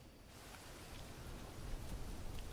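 Rain begins falling in the jungle survival video game Green Hell, a steady broadband hiss of drops that grows slightly louder and denser toward the end.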